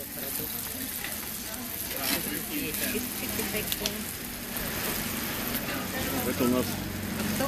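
Seafood sizzles and fries on a Thai mookata grill at a barbecue buffet on Ko Lanta, a steady crackling hiss that runs through the whole stretch, with voices talking faintly nearby.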